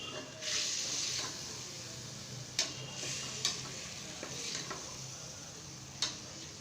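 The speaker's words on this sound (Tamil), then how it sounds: "ஊற வச்ச மட்டனை எடுத்து அதிலே கொட்டி அதையும் நல்லா கிளறி விடணும்" Marinated mutton for biryani is stirred in a pan, making a low background sizzle with intermittent spatula clicks and knocks on the metal.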